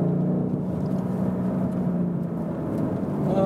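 A BMW M850i coupé's engine and exhaust under throttle, a steady loud low drone with rushing road and wind noise, sustained and close from inside the car, no speech.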